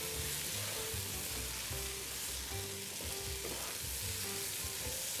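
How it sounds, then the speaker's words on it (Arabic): Rice frying with onion and mango pickle in a hot pan, a steady close sizzle running throughout with soft rhythmic scrapes and stirring knocks, no talking. "راح نضيف العيش ونقلبه مع البصل ويا أشار المانجا"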